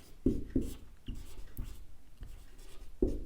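Marker or chalk writing on a classroom board during a Hindi literature lesson, heard as a series of close, short scratchy strokes with brief pauses between them and no talking.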